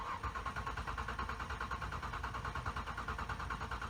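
The starter of a 1997 Ford Taurus with a bad crank sensor cranks the engine without it firing, a quiet steady rhythmic whirring chug pulsing evenly for several seconds.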